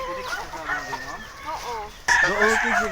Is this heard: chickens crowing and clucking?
yes